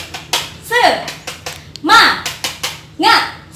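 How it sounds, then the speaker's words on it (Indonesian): A class of children at school performs a rhythmic spirit clap, with sharp claps in patterned bursts alternating with loud chanted voices, nearby and lively. "Ayo, tepuk semangat"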